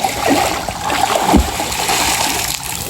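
Someone jumps into a cold outdoor swimming pool with one sharp, close splash, then water churns and sloshes continuously around it, with no voices.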